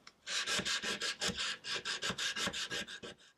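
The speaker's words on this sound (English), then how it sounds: "give this guy a good sanding." Rhythmic back-and-forth rasping of folded sandpaper on wood, about a dozen quick even strokes, close and steady.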